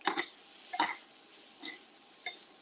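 Mushrooms and onions sauteing in a pan, with a steady soft sizzle running throughout and a few sharp stirring scrapes and clinks of a utensil against the pan, close and moderately quiet.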